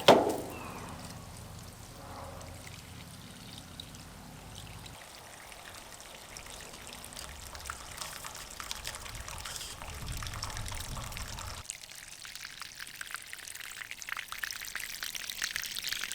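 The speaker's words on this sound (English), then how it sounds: "Use this piece of hose, try and siphon that rainwater off of the cover." Rainwater from a stock tank pool cover drains through a length of hose, a steady soft trickle and pour of water that runs alone for the whole stretch and grows slightly stronger toward the end.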